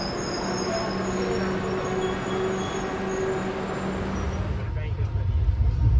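A Humsafar Express train pulls out of Banaswadi station, a continuous rumbling roll with a faint tonal hum, heard from on board, and a voice speaks over it.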